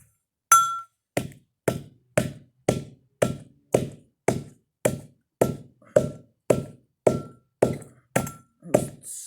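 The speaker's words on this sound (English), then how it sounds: "I only use this mortar and pestle for dit da." A pestle pounds frankincense and myrrh resins in a mortar for dit da jow, about fifteen evenly spaced dull thuds, each with a slight gritty clink, loud and close with no talk.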